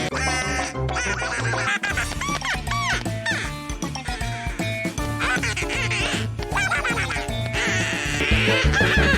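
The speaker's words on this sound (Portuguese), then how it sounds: "Parece que o pato está um pouco estressado" Pato the duck from the Pocoyo cartoon quacks in loud, frantic bursts, repeated many times in quick succession over busy cartoon music and sound effects.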